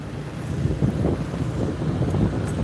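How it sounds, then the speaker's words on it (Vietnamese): A strong, cold winter wind blows steadily and roughly outdoors at a temple complex in Tay Ninh, roaring across the microphone for the whole stretch with no break. "bữa nay gió mùa đông thổi mạnh nha cả nhà"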